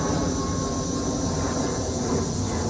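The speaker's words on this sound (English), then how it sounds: "I'll wait for the airplane." An airplane passes overhead as a steady, dense roar that fills the whole stretch without letup, with no voices.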